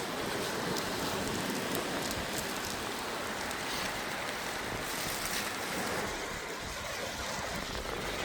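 Light drizzle falls on a beach as a dense, constant wash of hiss, blended with broad surf and wind noise that stays level and unbroken from start to finish.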